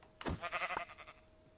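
A single sheep bleat in a video game, a short wavering cry rising then fading over about a second, faint and alone.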